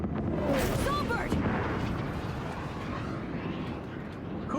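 Heavy gunfire and booming blasts in the Cyberpunk 2077 Phantom Liberty video game: a loud opening burst settling into a sustained low rumble of fire, with a person talking in the background.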